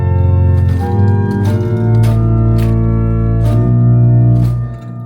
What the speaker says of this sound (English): We've got a principal 8-foot.